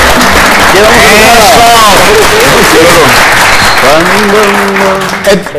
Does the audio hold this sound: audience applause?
yes